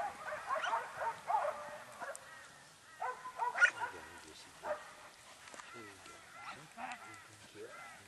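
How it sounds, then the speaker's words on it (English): A working Kelpie barks several times in short bursts while working goats, amid honking goose-like calls, with people talking faintly in the background. "He will bark."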